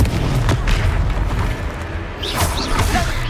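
The Confringo blasting spell from a Harry Potter video game bursts in a dense, rumbling explosion with whooshing debris, loud and close, amid busy battle noise.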